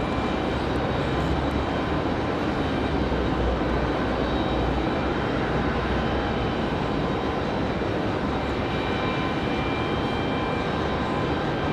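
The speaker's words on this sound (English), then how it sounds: "There is the flight from Los Angeles." A passenger jet arriving from Los Angeles at Raleigh-Durham International Airport makes a broad, steady engine roar that stays loud and unbroken throughout, with no voices.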